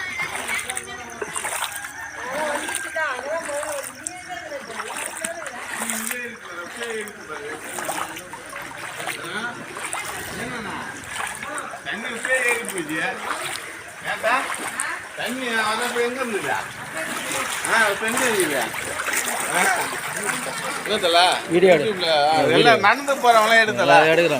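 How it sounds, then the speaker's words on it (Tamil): Floodwater rushes, splashes and sloshes steadily beneath people talking throughout, a continuous wash of flowing water, in Cuddalore, Tamil Nadu. "எங்கே எவ்வளோ தண்ணி வந்துடுச்சு பார்த்தீங்களா"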